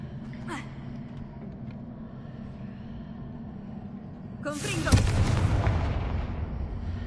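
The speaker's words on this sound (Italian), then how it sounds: "Che cosa sarà successo dopo quell'esplosione di magia?" A magic explosion erupts in a VR fantasy game, a sudden loud burst and booming roar that swells and lingers after a quieter stretch of low ambient hum and a brief whoosh.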